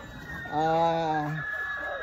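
Yellow-legged hatch gamefowl, fighting cocks on a farm, crowing once in a single harmonic call of about a second, loud and close, with soft clucking and low background noise around it.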